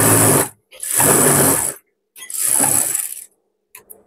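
Sewing machine stitching a churidar pyjama seam, three rapid mechanical bursts of whirring and clattering, each about half a second to a second long, separated by brief pauses, close and loud with no talk.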